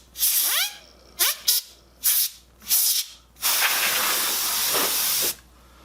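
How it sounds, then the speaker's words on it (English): Canned air blasts dust out of an Xbox cooling block in several short, sharp hissing bursts, followed by one long continuous spray of about two seconds, all close and loud. "So we're going to kind of spray that out a little bit more with our canned air"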